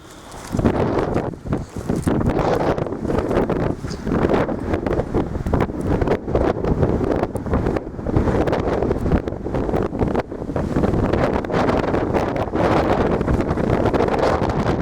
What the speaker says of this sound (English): The wind's really picked up, so I'll just nip outside and show you the shelter